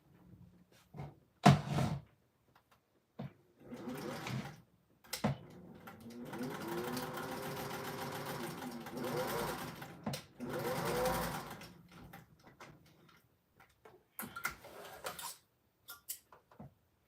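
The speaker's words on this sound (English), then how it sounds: "we're going to sew on this old Singer." An old Singer sewing machine stitches fabric in a couple of sustained whirring runs, with short clicks and handling knocks before and after, fairly quiet and close.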